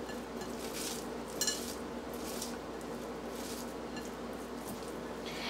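Chicken mince is worked by hand with coriander leaves and onion in a bowl, a soft, repeated squishing and slapping with a faint clink near the start, no talk.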